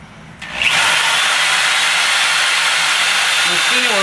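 An Electalfra MBS Pro magnetic drill near the end of its cutter life spins up and bites into stainless steel, a loud, steady, close high whine and grinding hiss holding without break, with brief speech at the end.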